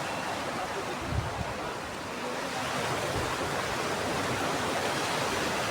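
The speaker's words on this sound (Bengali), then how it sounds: "দারুণ পানির ঢেউ।" Sea waves near a sea bridge at Bakkhali in late afternoon roll in as a dense, broad steady roar, loud and continuous with a slight swell in the second half, no clear voices.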